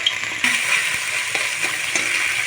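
Ground ginger, cumin and green chilli paste sautéing in a pan, a close, continuous bright sizzle with a few scraping stirs of a spoon against the pan.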